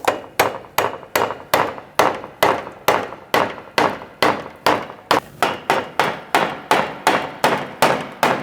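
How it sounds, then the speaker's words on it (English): Pry bar tapping an AC condenser assembly into place on a 2016-2019 Chevrolet Cruz, a long run of sharp metallic taps in a steady rhythm, close and loud with no talking. "Now you can take your pry bar and just slip this down and gently tap it in."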